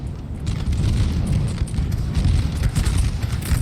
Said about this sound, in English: We got some nice hits on this cav with artillery and infantry.